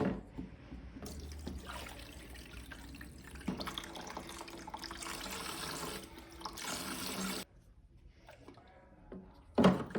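Water running from a tap into a sink to fill a hydrogen peroxide bath for parts from a 1988 Sharp Half Pint microwave, a steady close gushing that stops abruptly near the end, followed by a brief clatter.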